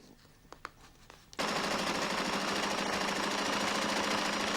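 A Flexorand Speedbinder on a table stitches the joins of carpet strips, kicking in after some faint clicks and then running as a loud, fast, continuous mechanical rattle until the end.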